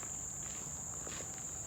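Crickets chirp on a nature walk, a steady high-pitched trill that holds constant and close throughout, over faint soft rustling.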